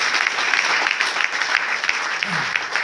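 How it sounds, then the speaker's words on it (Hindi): A roomful of people applaud at a marketing plan presentation, dense continuous clapping heard close and loud for a few seconds, with a faint voice briefly rising near the end. "तो जोरदार तालियां अपने आप के लिए कर दीजिए।"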